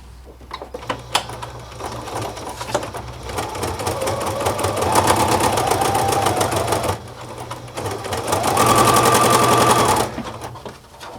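A sewing machine fitted with a flat felling foot stitches a napkin hem, running in steady mechanical bursts that grow louder and faster in two longer stretches, with brief pauses between them.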